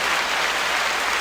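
A live studio audience claps, a dense, steady patter of hand claps filling the moment at a moderate level with no voices over it.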